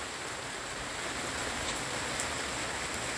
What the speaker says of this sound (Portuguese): Isso é incrível, é chuva no sol.